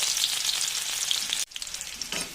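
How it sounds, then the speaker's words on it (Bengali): Onions fry in mustard oil with cumin and dried red chilli in a wok, making a dense, continuous sizzle close up, broken once by a brief dip before resuming, with no talking. "পেঁয়াজগুলো ভালো মতন ভাজা হয়ে গেছে"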